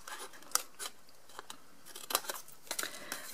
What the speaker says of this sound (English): So I'm just cutting straight up the fold line, and then I'm going to get rid of all of the rest of this flap.